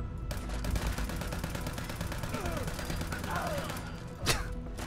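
Rapid gunfire rattles in the Fallout 4 video game at an underground Brotherhood city in Vault 88, a dense burst of repeated shots with one louder report near the end.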